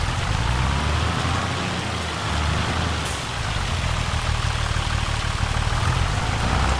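Hail pelting down steadily in the farming game Farming Simulator 25, a dense, constant hiss of ice striking surfaces with a low engine idling underneath throughout.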